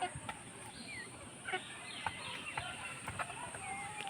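Scattered clucks from chickens over a busy outdoor background, with short bird calls popping up now and then at moderate distance.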